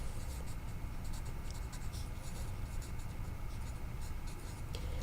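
Quick scratching strokes of writing on a board during a chemistry lesson come in short, uneven bursts, close and fairly quiet against a faint room hum.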